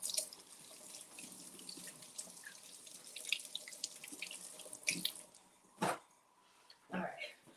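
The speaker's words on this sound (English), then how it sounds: "we just filled this up with hot water, and there's water in there with the hash browns" Hot water runs steadily into a container holding hash browns, splashing and trickling close by, with a couple of louder sloshes near the end and faint voices in the background.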